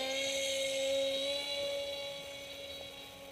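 An RC F-35 model jet comes in to land, its electric ducted fan giving a steady high whine with tonal lines that hold close, then fade a little as it descends, no voices.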